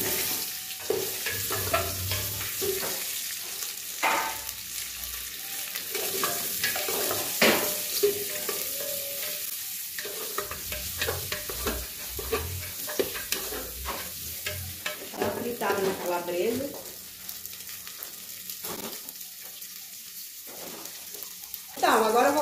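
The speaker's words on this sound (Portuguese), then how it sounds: "Vou refogar aqui a calabresa." Calabresa sausage sautéing in lard in a pan for a Sunday mungunzá lunch, a steady close sizzle broken by scraping stirs and utensil clinks, with background voices and music faintly underneath.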